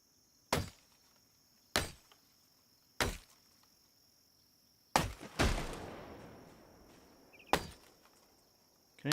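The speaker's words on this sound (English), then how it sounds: "Let's get chopping" Sharp, hollow chopping thunks of trees being chopped in Project Zomboid at irregular intervals, about five strikes, the fourth followed by a brief crackling rush, with quiet insect-like hum between.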